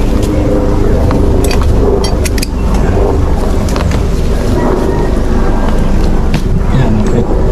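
A loud engine roars steadily throughout, heavy and broadband, with gusty wind-like rumble over it and no quiet gaps.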